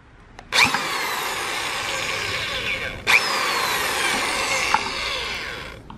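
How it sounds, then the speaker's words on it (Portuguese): A power drill with an enlarged bit bores a hole in a motorcycle instrument panel, a Titan 150 panel being fitted to a Titan 125; two sustained whining runs of about 2.5 seconds each, close and steady, with a brief pause between. "aumentei um pouquinho a broca. Vamos fazer o furo, vamos passar novamente"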